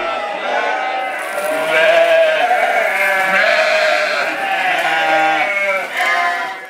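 White Dorper sheep, a South African breed, bleat loudly and close by, with long wavering overlapping cries from several animals forming a continuous chorus.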